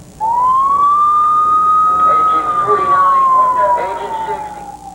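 Emergency vehicle siren wails in a rising and falling sweep, loud and close, with faint background noise and no talk.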